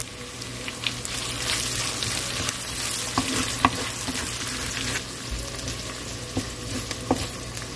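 Crushed garlic, ginger and green chillies sizzle in hot oil in a pan for a Kerala fish curry, a constant close crackle with occasional louder pops and stirring scrapes.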